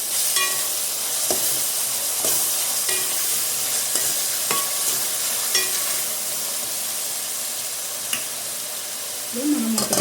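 Ginger garlic paste fries with onion and tomato for paneer dum biryani, making a steady close sizzle broken by occasional spoon taps and stirring scrapes, with a brief voice at the very end.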